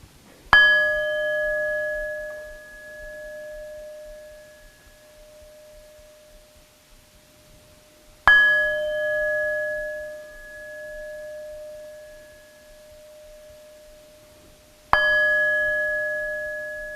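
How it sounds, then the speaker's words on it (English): Three separate strikes of a bell at a worship service ring out, each sustaining a clear tone that slowly fades before the next, with quiet in between. "as you hear the sound of the bell"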